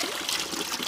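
Cold water from a mountain spring outlet (naula) in a Himalayan village, trickling and splashing in a steady, close, unbroken stream with no voices over it.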